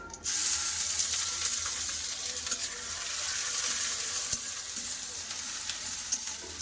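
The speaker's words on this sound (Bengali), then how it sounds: "পেঁয়াজটা ভালো করে ভেজে নেবো" Chopped onion frying in oil with panch phoron and a bay leaf, with a strong steady sizzle that starts abruptly as the onion hits the hot pan, close and loud, then stirring over it and no talk.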